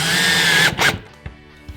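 A power drill drives a screw into pine wood with a loud whining spin that rises and cuts off, followed by a couple of light knocks and handling sounds.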